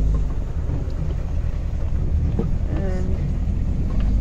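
A Land Rover Defender fitted with a Corvette LS3 V8 engine gives a steady, heavy low rumble mixed with buffeting wind noise, continuous throughout.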